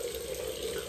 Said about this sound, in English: you wanna turn on the cold water